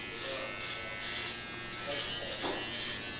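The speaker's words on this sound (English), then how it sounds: "So what do you have on the clipper right there?" Electric hair clippers buzzing during a classic short haircut: a close, high-pitched whirring hum that pulses in strokes as the clipper moves through hair, with a voice talking underneath.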